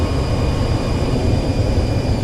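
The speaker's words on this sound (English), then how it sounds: "We're going to put the air brake on." Air brake extending on an MB-339 jet trainer in DCS World, heard as a steady, loud broadband roar of engine and airflow with a deep low rumble and faint high tones, continuous throughout with no distinct onset.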